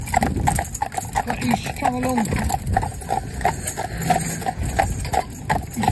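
A horse's hooves clop on a road in an uneven rhythm, fairly close, with someone talking over them and other animal noises mixed in.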